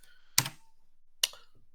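Two sharp, isolated keystroke clicks on a computer keyboard, spaced about a second apart, close and fairly quiet with no voices.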